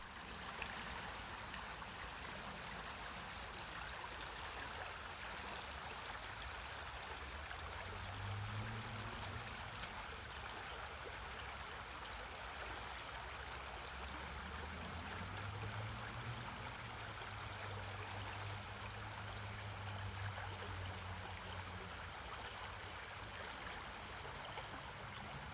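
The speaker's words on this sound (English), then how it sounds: "When the creek is at this height, when it's rushing over the rocks, you hear it really well." Creek water runs over rocks in a steady, soft outdoor wash, continuous and fairly faint, with no voices over it.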